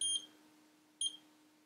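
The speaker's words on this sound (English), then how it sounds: "if we beep him, you can see pretty much a zero reading and we get the beep" A U1461A insulation multimeter on its continuity setting gives two short, high electronic beeps about a second apart, quiet and close, with nothing else around them.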